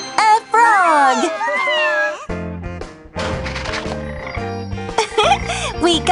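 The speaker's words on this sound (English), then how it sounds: "The answer is a frog!" A desert rain frog croaks in a playful children's animal-discovery show, with short, bright, warbling calls mixed among cartoonish sound effects and music.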